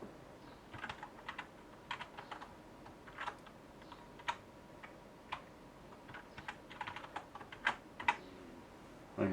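Someone types a password on a computer keyboard while installing Linux Mint on an average PC, with quiet, irregular key clicks in short bursts and pauses, close and alone.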